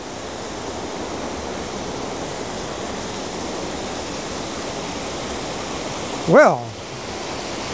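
Waterfall on the Sunshine Coast near a washed-out bridge, heard as a steady broadband rush of falling water throughout, with a brief louder chirp-like sound and a short spoken word near the end.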